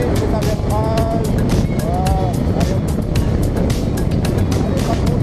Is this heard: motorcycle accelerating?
yes